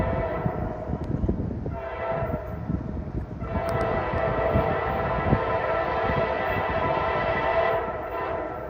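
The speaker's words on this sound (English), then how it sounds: "Here comes the train." A Norfolk Southern freight train rumbles past beside the river in West Virginia, a steady loud roar of rail cars with a brief horn blast near the start, continuing throughout with no talking.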